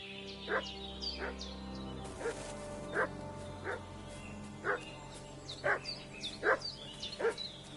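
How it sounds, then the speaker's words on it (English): Dog barking repeatedly at a distance in the medieval video game Kingdom Come Deliverance 2, about a dozen evenly spaced yips and barks over a quiet ambient outdoor bed. "What's that dog making such a fuss about?"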